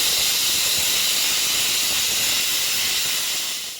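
A pressure cooker boiling potatoes lets off a loud, continuous jet of hissing steam close by, steady throughout and easing slightly at the end.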